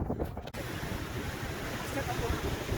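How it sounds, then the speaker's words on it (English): Ocean waves rolling onto the shore below a hilltop fortress on St Maarten, a continuous broad wash of surf mixed with wind noise on the microphone and a brief dip early on. "The waves coming in."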